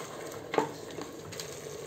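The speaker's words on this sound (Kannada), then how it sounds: "ಟೊಮೆಟೊ ಪ್ಯೂರಿಯನ್ನು ಸೇರಿಸಿ ಚೆನ್ನಾಗಿ ಮಿಕ್ಸ್ ಮಾಡಿಕೊಳ್ಳಬೇಕು" A spoon stirs tomato puree into South Indian style chicken masala in a pan, a soft quiet sizzle with a few faint scraping knocks against the pan.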